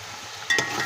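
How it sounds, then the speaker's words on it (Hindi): Grated tomatoes sizzle and fry in a pan with green chillies for a chicken pulao. The hiss is soft and steady, then turns louder and brighter about halfway through as the tomatoes are stirred. "इनको भी अच्छे से फ्राई कर लेंगे।"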